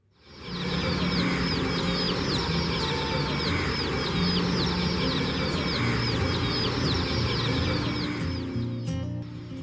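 A crowd of colored chickens in a cage in front of the Alappuzha collectorate clucks and calls continuously and loudly, many overlapping bird voices at close range without talk.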